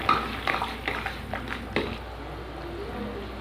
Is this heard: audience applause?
no